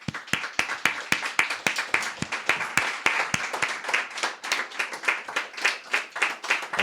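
A congregation applauds the Most High at a church gathering, producing a run of sharp, rhythmic hand claps, close and fairly loud, with a few scattered claps layered over the beat.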